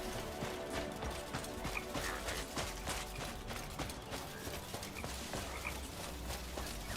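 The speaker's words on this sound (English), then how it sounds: "Is that a horse? I guess I'd have to steal that horse" Horse hooves in Crimson Desert clopping in a steady rhythmic gait, moderately close and fairly quiet, mixed with faint clanking tack and ambient game sounds.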